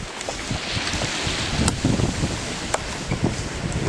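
Sailboat under way at six knots, with steady wind buffeting and a rushing wash of water along the hull, close and fairly loud, with a few creaks and knocks.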